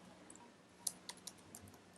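A few scattered keystrokes on a computer keyboard while entering a formula in Excel, quiet and close, with irregular clicks spaced across a couple of seconds.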